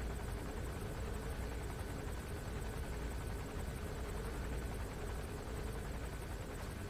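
Helicopter in the video game Metal Gear Solid 5: The Phantom Pain, a steady rotor and engine drone holding at a constant moderate level throughout, with no voices over it.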